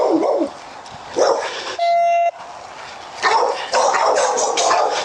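A charging dog barks in agitated bursts amid shouting chaos, interrupted by a loud censor beep, with barking and noise resuming afterward.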